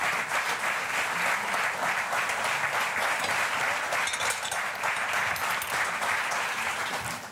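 Sustained audience applause fills a cooking show studio, loud and steady throughout with no speech.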